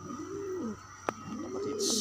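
Pigeons cooing in a loft, two soft drawn-out coos separated by a brief click, close and alone, with a short hiss at the end.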